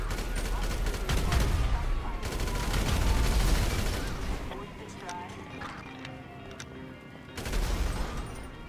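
Explosive gun firing in GTA 5: a dense burst of booming blasts and crackling fire up front, then quieter scattered shots and debris, and a final loud blast near the end, with players talking over it.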